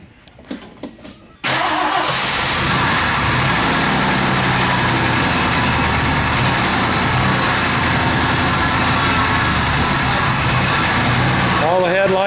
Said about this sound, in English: We're going to try starting it up again here after Scott put a little more gas in it.